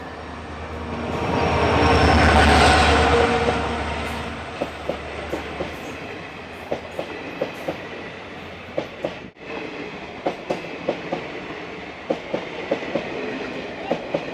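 An opposite train on the Palakkad–Tiruchirappalli single line, likely the Tiruchirappalli–Palakkad service, rushes past close by in a loud whoosh. A run of sharp, rhythmic clickety-clack wheel beats follows as the carriages go by.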